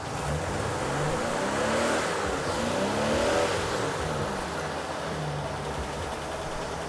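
A Toyota engine held at steady high revs with the hood area nearby, a continuous loud roar that rises slightly and eases without a break, with no voices.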